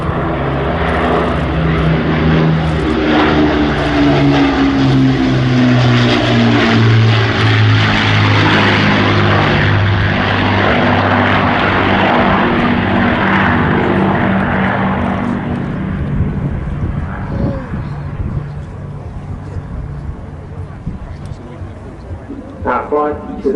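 A propeller aircraft flies a display at the Royal International Air Tattoo at RAF Fairford, its loud engine drone rising and falling in pitch as it passes, then fading, with a commentator talking over it.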